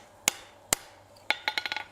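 Steel garden hose hook being beveled with a hammer on an anvil: two spaced, ringing blows, then a quick run of about seven lighter, sharp metallic strikes, close and clear.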